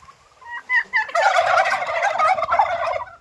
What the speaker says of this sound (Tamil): இதுதான் டர்க்கி கோழிஸ், வான் கோழி.